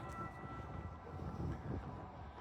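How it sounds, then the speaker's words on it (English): A Portland MAX electric light rail train rolls past on a city street at night, a faint, low, broad rumble with a soft wind-like hiss and no speech. "Electric train, they call it the Max."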